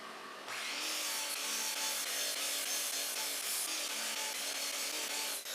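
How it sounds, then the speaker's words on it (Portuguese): A table saw cuts wooden pieces for an end-grain cutting board, the blade whirring up and holding a steady, moderately faint cutting whine before winding down at the end, with no talk. "ao invés de tentar fazer o corte de 45 graus por todo o comprimento na serra de bancada, vou apenas cortar as peças antes."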